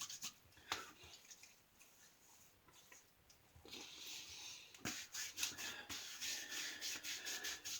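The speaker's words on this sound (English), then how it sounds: "We scraped a new blade across our face." Vintage Dandy razor blade scraping across a face while shaving, a close rasping rub that grows denser and louder in the second half, with short repeated strokes and no talk.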